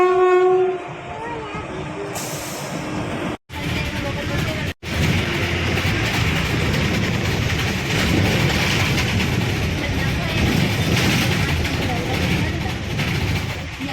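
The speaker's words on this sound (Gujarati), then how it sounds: "ટ્રેન આવે એમ છે તો અમે ઊભા રહી ગયા છીએ" A train passes close by, its horn sounding as heavy rumbling and wheel clatter roll on continuously and loudly, with people talking faintly under it.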